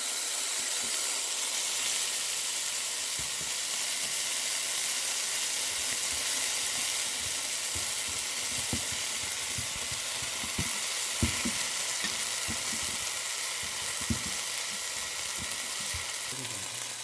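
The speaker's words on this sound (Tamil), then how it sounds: "தேங்காய் பால் விட போகிறோம் பால் நல்லா சுடட்டும்" Coconut milk heats in an appam pan, giving a steady broadband sizzle and hiss throughout with scattered soft pops and crackles, close and continuous, with no talking.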